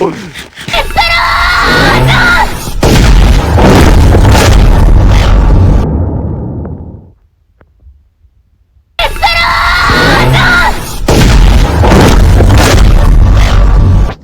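A huge Minecraft PE explosion from the Megumin explosion addon, a loud roaring blast that fills the mix for several seconds, cuts to near silence, then bursts back just as loud.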